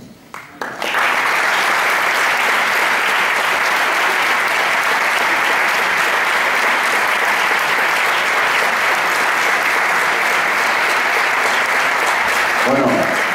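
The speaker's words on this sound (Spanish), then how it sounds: "le damos ese último aplauso a la agrupación musical de Zalema de la Maurí" Loud, sustained audience applause for a musical band at a band competition concert in Baza, Spain, starting abruptly and holding steady as a dense roar of clapping.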